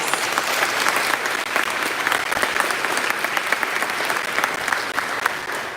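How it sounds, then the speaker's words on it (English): Sustained round of applause from an audience at a Tennessee Human Services graduation ceremony, dense clapping that holds steady with only brief dips in intensity. "give our Commissioner Thomas another round of applause"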